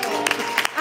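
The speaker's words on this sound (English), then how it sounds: "Simon said, clap your hands." Church members clapping their hands on cue, a few sharp claps close together over a brief moment, with voices audible underneath.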